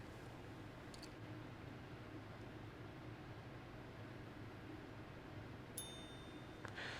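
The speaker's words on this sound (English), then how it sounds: "So just a pleasant little chime that hits at the top of every hour." A Christopher Ward C1 Bel Canto watch sounds its hourly chime, a tiny hammer striking a gong, giving one bright, ringing ding late on over steady background hiss, with a fainter tick before it.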